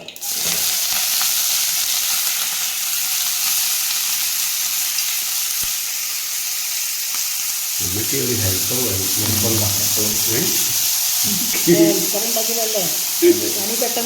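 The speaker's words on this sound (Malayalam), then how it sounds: "ചീര പോകുന്നു ഗൈസ് കടുക് പൊട്ടി" A loud, constant sizzle of frying fills the clip, with mustard seeds popping early on as agathi spinach greens go in; later a person talks over the ongoing hiss.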